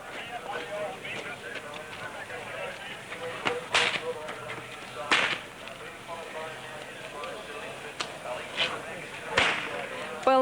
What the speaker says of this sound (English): Now, Catwoman, I'm a bit worried about that whip.